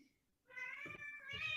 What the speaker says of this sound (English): Apologize for the cats in the background.